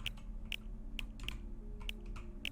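Computer keyboard keys pressed in an irregular run of sharp clicks and taps, several distinct strokes over a steady low background hum.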